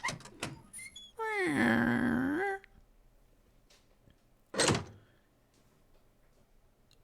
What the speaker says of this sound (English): The metal door opens with a loud creak.